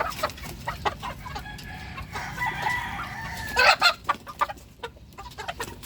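Young gamefowl stags and pullets clucking nearby, with a clear rooster crow rising midway among scattered farmyard sounds.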